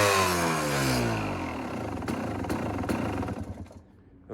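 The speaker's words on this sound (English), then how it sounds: "of course I needed to rev it a few more times" A carbureted KTM dirt bike engine revs up and drops back, a loud close rising and falling motor roar that settles and sputters toward the end.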